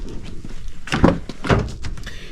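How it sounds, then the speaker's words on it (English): A car's rear door is opened during a coilover suspension install, giving a couple of solid thunks and latch clicks at close range with no talking. "On the rear, you can open up the back door"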